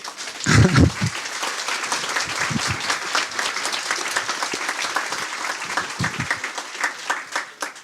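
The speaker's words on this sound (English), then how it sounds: "So now it's time to applause." Audience applauds after a software-testing talk, a dense wash of clapping lasting several seconds, loud and sustained with a few brief voices mixed in.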